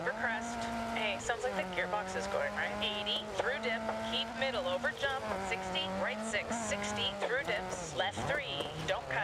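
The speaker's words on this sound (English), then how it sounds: "sounds like the gearbox is going" A rally car with a failing gearbox in the DiRT 4 video game, a whining engine rising and dropping in pitch through gear changes, with a co-driver calling pace notes over it.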